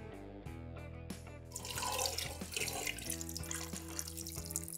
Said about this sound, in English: And top it up with cold water until it's just covering the chicken.